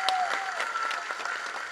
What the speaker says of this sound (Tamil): அவனுக்கு ஒரு பலத்த கரகோஷம் கொடுங்க